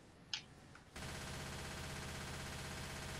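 Sustained automatic gunfire in the zombie shooter game Left 4 Dead 2, a dense, steady rattle of rapid shots kicking in after a brief quiet moment and continuing to the end.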